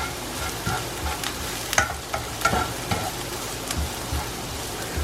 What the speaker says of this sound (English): The green chilies will have to cook through, otherwise they will become very spicy.